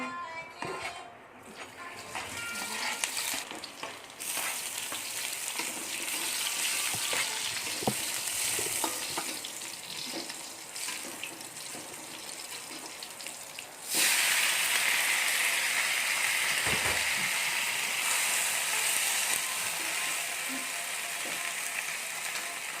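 Onions stir-fried in a home kitchen pan, a steady loud sizzle with scraping, clattering stirring strokes throughout, jumping to a brighter, fiercer hiss about two-thirds through.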